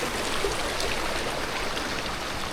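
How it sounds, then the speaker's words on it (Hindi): Water rushes steadily down a stream at a hidden spot near Bacheli, a continuous, close, full-bodied wash of flow with no voices over it. "पूरा पानी बह रहा है इधर"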